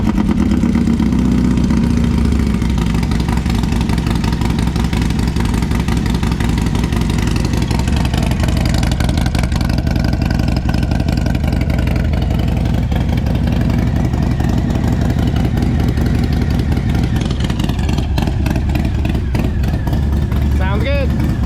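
A Harley-Davidson Milwaukee 8 V-twin with a new aftermarket exhaust cranks and settles into a steady, loud, deep idle that rumbles continuously up close, with no talk over it.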